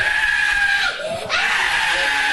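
Young girl badly burned by a bomb blast in Gaza screaming in pain: loud, shrill, sustained cries close by, broken by a brief catch of breath before resuming.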